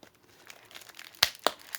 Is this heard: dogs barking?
no